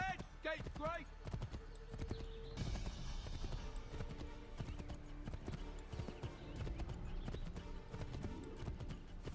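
Horse hooves clip-clopping in Assassin's Creed 3 Remastered, a quick run of rhythmic, fairly soft hoofbeats mixed with game ambience, while a character talks over it and another voice briefly joins in.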